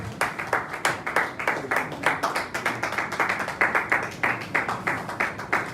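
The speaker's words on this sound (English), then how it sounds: "Please, a round of applause for him." An audience at a youth empowerment program claps to welcome a speaker: a fairly loud, steady stream of rhythmic hand claps lasting several seconds, with no talking over it.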